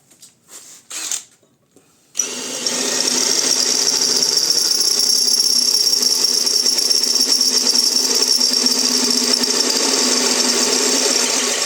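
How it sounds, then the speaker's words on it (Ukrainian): A power drill fitted with a 10 mm bit boring into metal for a homemade turntable, starting after a few brief handling knocks and then running continuously as a loud, steady whine close up. "Після четвертого сверла номер 4 діаметром зразу сверлю десяткою."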